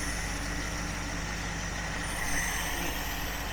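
A Dodge 318 V8 idles steadily at about 700 rpm during an oil pressure test, a continuous low rumble with a constant drone and no talk.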